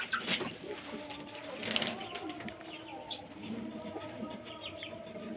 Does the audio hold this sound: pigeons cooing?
yes